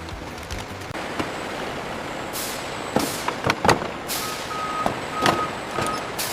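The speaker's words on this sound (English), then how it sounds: "Loaded trucks depart the factory." Loaded trucks leave a guava candy factory: a rumbling diesel engine under repeated reversing beeps and several sharp hisses of air brakes, close and moderately loud, no voices.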